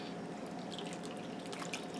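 Melted Velveeta cheese poured over macaroni, a soft, faint run of wet drips and trickling against a low, steady background.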